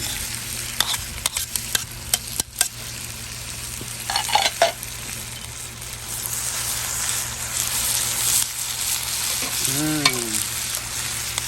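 Red onions sizzle in oil in a Lodge cast iron wok set on a Weber kettle charcoal grill, a loud continuous frying hiss punctuated by scraping and clinks of stirring, with a brief squeak near the end.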